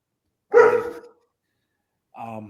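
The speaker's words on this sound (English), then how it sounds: "my dog's barking" A pet dog barks indoors during a college football preview podcast, two separate short bursts close to the microphone with a pause between them, fairly loud and without talk over them.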